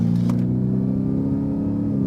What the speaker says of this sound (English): Okay, so we're gonna accelerate again.